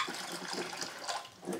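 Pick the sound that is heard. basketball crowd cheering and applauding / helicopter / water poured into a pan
water poured into a pan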